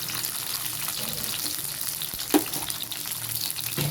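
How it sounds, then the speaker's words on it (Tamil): Small onions sauté in oil for mutton trotter soup, giving a steady close hiss and gentle sizzle with one brief clink partway through. Nobody talks. "அது ஒருமாதிரி கோல்டன் கலரில் வர வரைக்கும் நல்லா வதக்கிக்கணும்."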